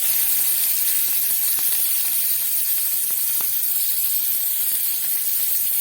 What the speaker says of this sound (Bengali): শুকনো লঙ্কা ভালো করে ভাজা হয়ে গেছে, এই অবস্থায় আমি দিয়ে দেব পেঁয়াজ কুচি।